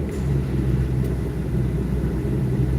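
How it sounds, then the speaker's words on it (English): A car engine rumbles steadily aboard a ferry, a loud, deep, continuous drone that fills the whole stretch without a break and with no talk over it. "Can you hear the car? It's so loud."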